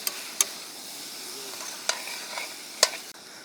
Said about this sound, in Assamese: এতিয়া আমি কোমোৰা জালি আৰু আলুখিনি বঢ়িয়াকৈ ভাজিব লাগিব।